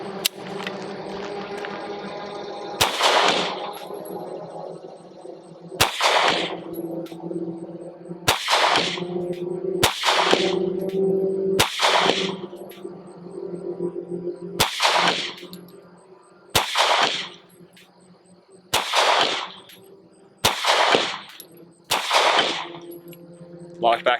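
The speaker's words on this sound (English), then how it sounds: "I'm gonna fire this last 10 rounds." Sig Sauer P365 XL pistol firing a string of rounds at a range, about a dozen sharp, loud reports spaced irregularly every second or two, with a ringing tail after each shot and faint background noise between them.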